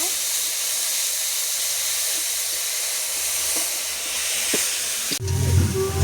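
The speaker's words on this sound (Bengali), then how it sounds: "এখানে পেঁয়াজ বেটে নিয়েছি হালকা করে ভেজে নেব" Ground onion paste is fried in a pan for Bengali doi katla, a steady hissing sizzle that surges louder near the end as the paste hits the hot oil, heard up close with no talk.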